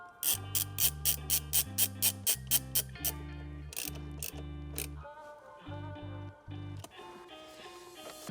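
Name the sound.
tightening with a Torx bit during steering wheel install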